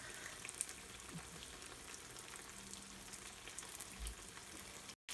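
Unniyappam, small sweet Kerala fritters, frying in hot oil with a steady, quiet sizzle and fine crackle throughout, a few soft clinks and stirs, no voices.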